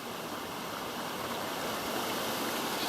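Water leaking through an old creek dam makes a continuous broadband rushing hiss, steady and fairly loud throughout, with no voices.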